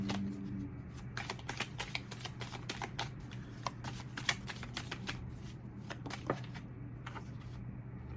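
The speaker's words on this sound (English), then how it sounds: "Let's pull one more card of advice" A deck of tarot cards is shuffled close by, a rapid series of crisp riffling flutters and soft taps in quick bursts, quiet and alone with no voices.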